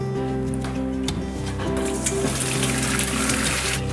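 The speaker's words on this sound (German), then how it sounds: "Dann können wir den jetzt direkt abgießen." Hot water drains off freshly cooked cauliflower into a sink, a loud close gush of pouring and splashing that runs steadily over a low humming background.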